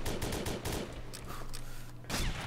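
Rapid, loud gunfire from the Combat Arms video game, a run of sharp repeated shots in quick succession with a brief lull and a fresh burst near the end, with no talking over it.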